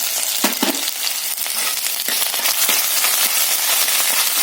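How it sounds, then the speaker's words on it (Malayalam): Ginger, garlic and pepper paste sizzles loudly in a hot pan for a Kerala prawn curry with kudampuli, a steady close frying hiss broken by sharp scraping stirs, with no talking. "നമുക്കിനി ഇതിനകത്തേക്ക് ഇഞ്ചി വെളുത്തുള്ളി കുരുമുളക് പേസ്റ്റ് ചേർത്ത് കൊടുക്കാം"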